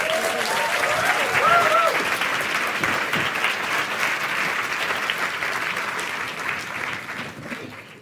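An audience at a science communication competition final applauds steadily, a dense wash of clapping with a few cheers early on, gradually fading toward the end.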